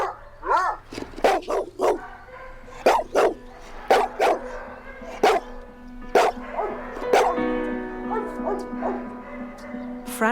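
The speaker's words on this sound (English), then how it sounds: "Frantic barking is a dog's way of talking to us" A shelter dog barks frantically in close, loud bursts of repeated barks with short yips and whimpers between them, some volleys rapid and others spaced apart, with no voices present.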